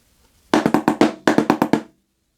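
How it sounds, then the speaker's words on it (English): Snare drum playing two paradiddles in a trade-off solo, the second starting on the ah of beat one: a burst of five sharp hits, a short pause, then four more, loud and close with no talk. "So those two paradiddles together are going to sound like this."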